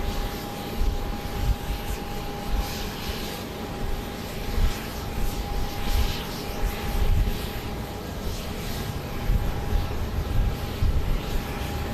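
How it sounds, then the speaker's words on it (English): A Southwest Boeing 737 MAX 8 jet arrives at Dallas Love Field at night, arriving from Chicago Midway. Its engine noise is a steady, moderate roar with airport background rumble and no speech. "we do have a plane now angling in here, another MAX 8"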